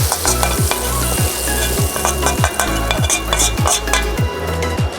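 Grated potato rosti frying loudly in bacon fat in a pan, a steady close sizzle broken by regular rhythmic scrapes of a utensil pushing and stirring the mixture.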